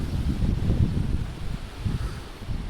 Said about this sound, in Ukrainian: Такі різкі пориви вітру зараз більш не було.